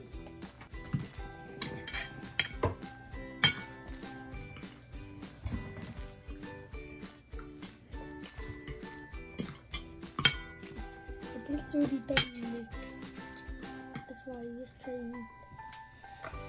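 A fork stirs Samyang spicy noodles in a bowl, making repeated clinks and scrapes against the dish at an uneven rhythm. Several people, including children, talk over it.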